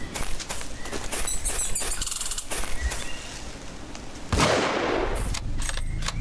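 Gunshots in a video game come as a rapid run of sharp close cracks with mechanical clicks between them, then a louder blast near the end.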